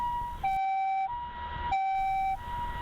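An ambulance siren wails in a steady two-tone pattern, alternating high and low pitches clearly and at moderate volume with no other sounds.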